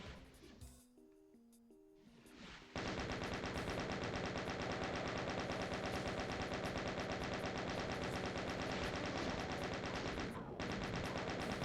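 Chaingun in Doom II firing a long, unbroken rapid stream of loud shots, with a brief gap before the burst resumes, heard alone after a short stretch of game music.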